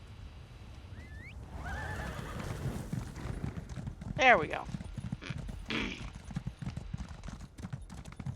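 Horse hooves clip-clop in the video game Companion, a run of close, rhythmic hoof steps with a sharp neigh partway through, while someone talks over it.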